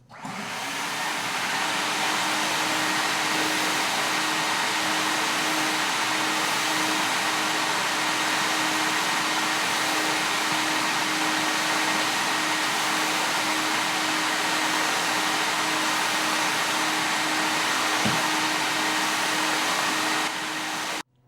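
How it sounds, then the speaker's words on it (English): Steady, loud vacuum cleaner drone runs unbroken for about twenty seconds while residual dust is cleared from a garage floor before a polyurea coating is applied, with no talk. "we'll vacuum all of our residual dust or particulate off the surface"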